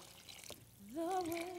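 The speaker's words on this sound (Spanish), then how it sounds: "Vamos a añadir el agua." Water pours steadily into a pot of fish broth, the stream rising in pitch as the vessel fills; close and fairly quiet, with no talking.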